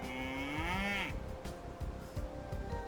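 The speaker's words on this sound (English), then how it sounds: "We can pasture these cows" Cows lowing in a strategy video game, one loud drawn-out moo of about a second up close, followed by faint clattering game sounds.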